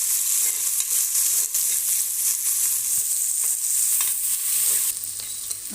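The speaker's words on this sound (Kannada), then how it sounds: "ಮಸಾಲೆಗಳನ್ನೆಲ್ಲ ಹಾಕಿ ಫ್ರೈ ಮಾಡ್ಕೊಳ್ಳೋಣ" Spices frying in a pan for tomato bath give a dense, steady sizzle with faint scraping of stirring, close and continuous, briefly dipping near the end.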